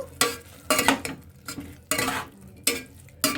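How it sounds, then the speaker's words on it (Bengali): Chicken soup with salt and butter stirred in a pot, a spoon scraping and clinking against the metal in several distinct strokes, close and fairly loud. "দিয়ে এটা আরেকটু নাড়িয়ে চাড়িয়ে নেব"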